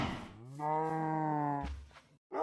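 A cow in the video game SevTech Ages gives a single clear, drawn-out moo, fairly quiet and alone, followed by a brief thud.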